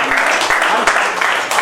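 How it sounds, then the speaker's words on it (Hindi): Audience applause at a Hindi poetry festival in Palam, Delhi: a steady wash of clapping from a seated crowd, dense and fairly loud throughout the short stretch. "और जोरदार तालियां बजाइए।"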